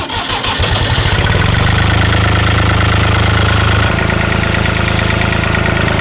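An old Oliver farm tractor engine cranks and catches, then settles into a loud, steady mid-pitched idle with a rough knocking beat close by.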